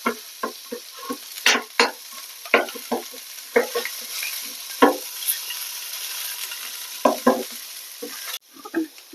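Close, soft sizzling of capsicum and onions softening in a pan, punctuated by frequent scraping and tapping stir strokes at an uneven rhythm, with a quick clank near the end.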